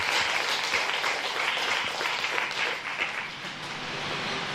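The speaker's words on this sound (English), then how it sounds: "Let's clap!" Audience clapping at a talk, a dense burst of applause that stays loud and even for a few seconds, then thins slightly toward the end.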